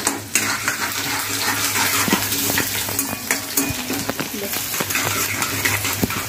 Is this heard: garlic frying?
yes